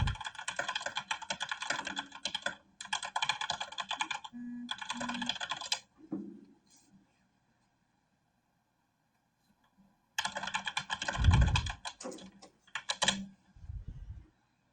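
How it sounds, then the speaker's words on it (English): Typing on a computer keyboard, a dense clatter of rapid keystrokes in three bursts, then a long pause before two more bursts, close and fairly quiet, with a few low thumps and no talk. "I was typing."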